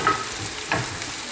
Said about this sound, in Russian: Ну вот, лук с перцем поджарились,